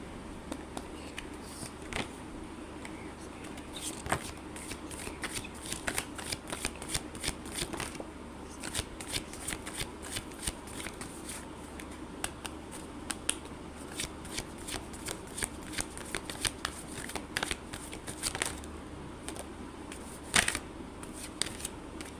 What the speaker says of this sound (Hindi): ओके, सो मीनवाइल मैं कार्ड शफल करूँ।